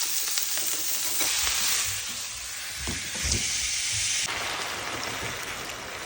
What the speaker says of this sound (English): So to my frying pan, I've added some oil